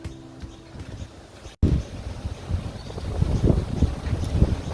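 Wind gusting outdoors in a low rumbling roar that buffets the microphone, building after an abrupt cut and growing louder and rougher toward the end.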